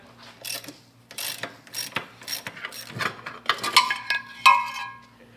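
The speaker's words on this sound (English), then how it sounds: "I need a 3/4 inch end wrench and a 3/4 inch ratchet" A 3/4 inch ratchet wrench clicking while working on a Corvair: repeated short bursts of close ratcheting, uneven in rhythm, with some light metallic clinks and no talk.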